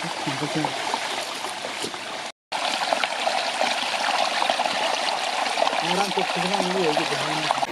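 A mountain irrigation canal in a Pauri Garhwal village rushes with a steady, full flow of water, heard close and continuous, while a person talks over it.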